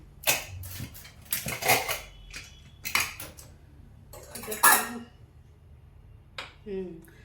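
A pressure cooker is opened in a home kitchen while potatoes are boiled, with sharp metallic clinks and clatters of pots, lids and utensils in scattered bursts, fairly quiet and close.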